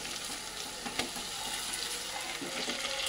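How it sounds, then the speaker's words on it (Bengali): Hot water is poured into a pan of simmering pabda fish curry, producing a steady, quiet rushing and bubbling hiss with a faint sizzle underneath. There is no speech. "আমি গরম জল পরিমাণ মতন দিয়ে দেবো"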